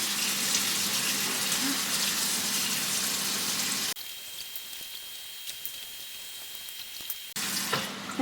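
Water runs and splashes steadily over elderberries being washed for tea, a continuous close rushing hiss that drops in level partway through, then rises again.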